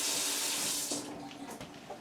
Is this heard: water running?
yes